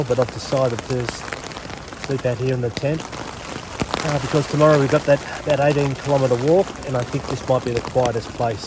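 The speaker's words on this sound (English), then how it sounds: "You can hear the wind, gale force wind outside." Gale-force wind and rain beat on a tent in a constant close hiss and patter beneath someone talking steadily all the way through.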